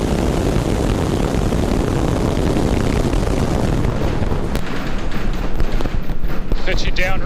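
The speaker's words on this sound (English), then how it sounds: "We have liftoff." A SpaceX Starship rocket roars at liftoff on its twelfth flight test, a dense broadband rumble that crackles and rises in intensity, with a commentator's voice heard over it.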